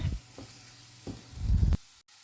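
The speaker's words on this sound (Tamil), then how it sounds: "நீங்கள் நல்லா வதக்கினா தான் அந்த குழம்பு தூளில் இருக்கிற ரா ஸ்மெல் போகும்" Fish curry masala powder is sautéed in a pan, with soft sizzling and a few scraping stirs of a spoon, close and quiet, with no talking.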